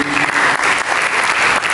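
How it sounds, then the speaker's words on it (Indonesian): A church congregation applauds during a sermon, loud sustained clapping from the crowd with no break, close and full throughout. "Mari kita berikan tepuk tangan bagi"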